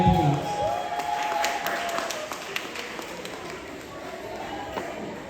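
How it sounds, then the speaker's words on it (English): An audience claps for a hard-working event team at an awards evening in St Mary, Jamaica, a scattered burst of applause that thins out over a few seconds beneath a lingering voice. "Clap them, please."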